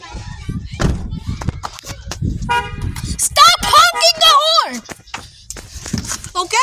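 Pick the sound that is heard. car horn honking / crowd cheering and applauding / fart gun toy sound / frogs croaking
car horn honking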